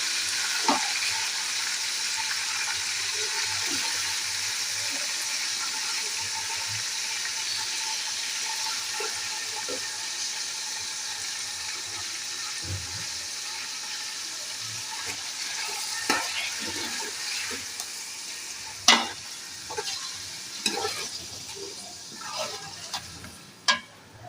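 Beef pieces fry in a pot with ginger-garlic paste for nihari, giving a continuous loud sizzle. Occasional scraping and clinking of a spoon stirring grows more frequent toward the end.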